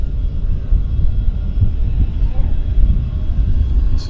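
A small jet airplane at Vancouver Airport rumbles steadily at a distance, a continuous low engine roar filling the whole stretch without any talk.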